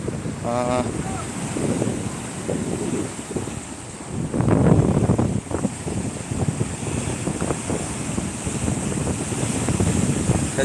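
Sea waves wash and surge onto Shankarpur beach under steady wind buffeting the microphone, a continuous roar with a stronger swell midway, while a voice talks over the surf.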